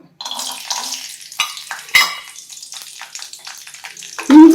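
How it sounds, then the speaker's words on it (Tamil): Cashews dropped into hot ghee in a pan for white pongal, with a clatter of utensils followed by a soft, steady sizzle and a sharper hiss and scrape at the end, close up. "நெய் சூடாயிடுச்சு பாருங்க. போய் முந்திரியை போடுவோம்."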